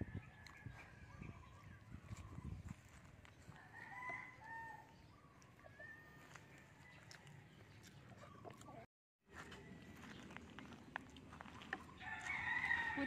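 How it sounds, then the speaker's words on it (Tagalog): A pet chicken named Hawk clucks and crows softly outdoors during cooking of fish paksiw, with scattered short calls over low background noise and faint talk. "Si Hawk yung aking manok."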